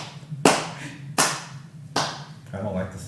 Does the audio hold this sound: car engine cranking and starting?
no